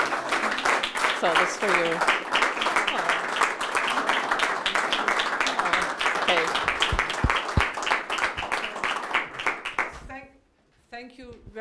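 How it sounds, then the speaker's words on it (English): An audience claps after a talk on U.S.–German relations, with sustained applause and a few brief voices over it, ending in a short spoken line once the clapping dies away. "join me, please, in giving her a round of applause for all her service"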